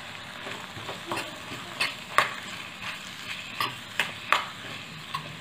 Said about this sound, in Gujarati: અને સરસ આપણે મિક્સ કરી લેવાનું છે.